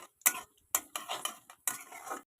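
A utensil scrapes and clatters against a pan in short, uneven bursts with brief pauses between, stirring pointed gourd and green chillies as they fry. No voices.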